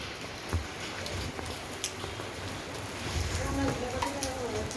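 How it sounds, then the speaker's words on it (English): Rain falling on an Indian street, a steady soft patter with scattered sharper drop taps close by, moderately quiet and continuous. "it's raining and the rain is dropping on me"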